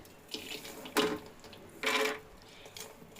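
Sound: fried peanuts and chilies added into water for chutney

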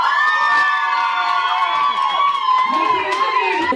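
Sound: audience applauding and cheering for Dmitry

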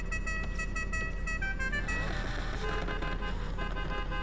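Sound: car horn honking in Need for Speed video game

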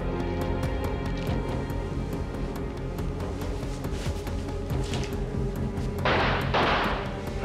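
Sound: gunshot

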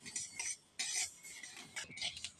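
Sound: white mustard seeds being dry-roasted and stirred in a wok

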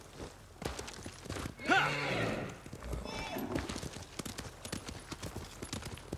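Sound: horse hooves and whinny in video game Ghost of Tsushima

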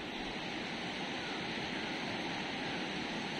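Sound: flood water flowing around Panchvaktra temple, Mandi

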